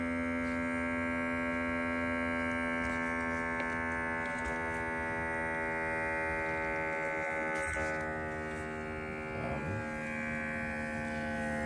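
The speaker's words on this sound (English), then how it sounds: "We got this digital smoke machine. It's a Foxwell ST2000." Foxwell ST2000 digital smoke machine running on a car's air intake for a brake booster leak check, a steady tonal electric hum held at an even level with faint ticking over it.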